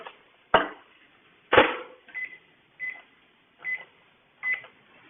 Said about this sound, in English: stick my beans and my pork roast into the microwave to get these warmed up